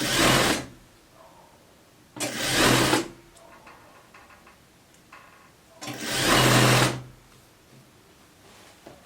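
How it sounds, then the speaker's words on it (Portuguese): A sewing machine stitches sweatshirt fleece fabric in three loud, close whirring bursts, each lasting under a second, separated by quiet pauses with faint handling of the cloth. "A gente puxa, posiciona em cima e costura."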